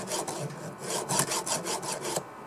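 Chainsaw blade being sharpened with a file, a series of close, evenly paced rasping strokes, each a short gritty scrape, with no voices.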